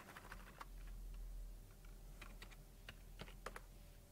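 Keys on a computer keyboard are tapped in short, irregular bursts of crisp clicks, close and fairly quiet over a low steady hum, entering a domain lookup command.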